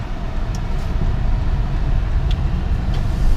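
Inside a 2017 Toyota Prius Prime Plus plug-in hybrid on the road, a steady low rumble of tyres and road noise carries through the cabin as the car drives and turns, with no voices.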